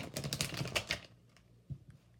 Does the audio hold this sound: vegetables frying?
no